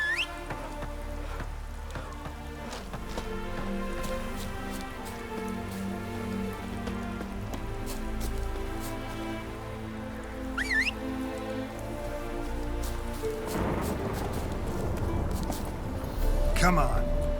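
Steady rain patters in The Witcher 3: Wild Hunt under a layered game music score, with a heavier burst of rain noise near the end; no distinct thunder stands out.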